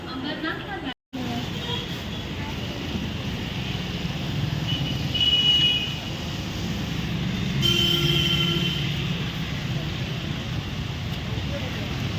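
A train rumbles at a Mumbai railway station around Chinchpokli, a steady loud roll of wheels on rails with a squeal of metal around the middle and a brief cut near the start.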